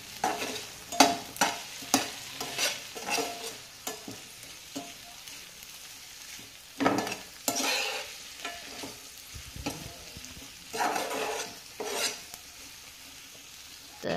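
Stir-frying in a pan for a quick restaurant-style dish, with repeated scraping stirs in bursts over a steady sizzle, close and moderately loud, no voices.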